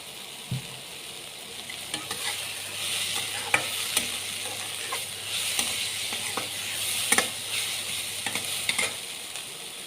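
Bread pakora batter being stirred and mixed with salt, a steady soft scraping and churning close by with a few sharper clicks of the spoon against the bowl, no voices.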